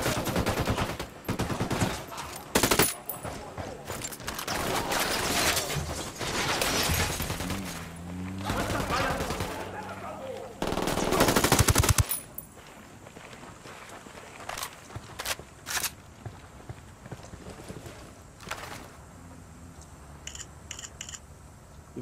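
Gunfire from the video game Ghost Recon Wildlands, a dense burst of rapid shots and loud bursts through the first half, then scattered, fainter shots and game sounds afterward.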